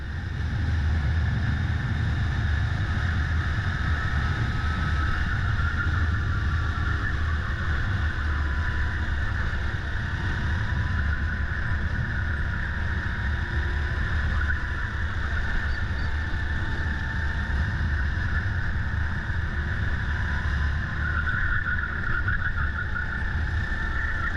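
Racing kart engine during a fast lap at a Spreewald Cup race, a continuous loud buzzing drone from an onboard position, steady throughout with slight pitch changes and no talk.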